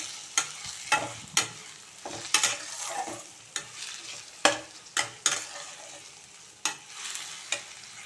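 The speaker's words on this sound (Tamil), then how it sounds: "கொஞ்சம் மிளகாய்த்தூள் கொஞ்சம் மஞ்சள் தூள் இதெல்லாம் சேர்த்து நல்லா ஒரு வதக்க வதக்கிடலாம்" Salt, chilli powder and turmeric are sautéed in a pan, with a spoon scraping and stirring in sharp, irregular strokes over a soft continuous sizzle, close and without talk.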